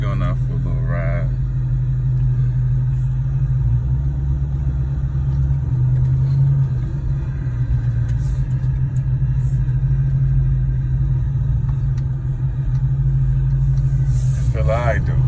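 Steady low engine rumble from a car heading out for a short drive, continuous and close throughout, with a voice talking over it and a few brief clicks near the start and end.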